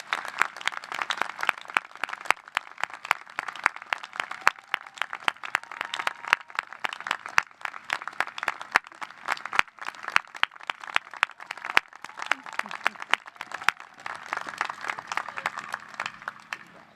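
A crowd at a Trinity College commencement ceremony applauds a graduate walking to the front of the stage with dense, sustained clapping that carries on without a break for the whole stretch and thins slightly toward the end.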